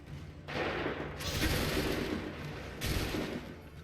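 A volley of musket fire in Assassin's Creed 3 rolls as a rumbling crackle of many shots, with a second surge near the end, somewhat distant and dense.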